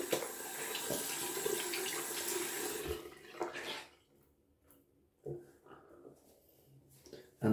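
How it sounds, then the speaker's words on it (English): Tap water runs steadily into a sink as hands are rinsed during a wet shave with Proraso red, then stops, followed by faint handling sounds. "rinse off the hands"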